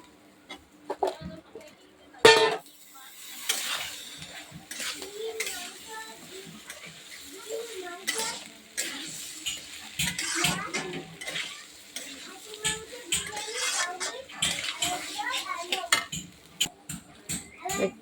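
Chandramukhi potatoes go into a pot of Gobindobhog rice khichuri and get stirred, giving soft scraping and light sizzling while chickens cluck nearby and a voice speaks intermittently.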